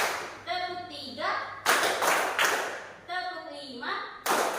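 A group, likely children in an Indonesian classroom, joins a rhythmic clapping game, with a short burst of claps and then another after a teacher's spoken counting cues. The voice is heard between the clap bursts.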